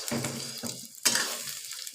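An omelette frying in an iron pan, a close sizzle with stirring and scraping, broken by brief pauses and a sharper burst of hiss as more goes into the hot pan.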